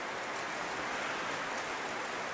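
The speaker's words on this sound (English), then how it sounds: "It's raining really hard." Heavy rain pouring down, a dense, constant hiss of drops on surfaces, steady and enveloping with no talk.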